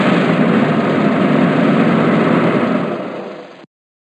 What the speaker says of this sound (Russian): Грузовой автомобиль